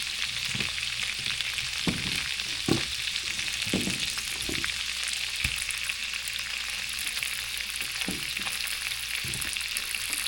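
Two red onions sizzle steadily in a hot pan for a tangine chicken dish, with a dense hiss and repeated scraping knocks of a utensil stirring them at irregular intervals.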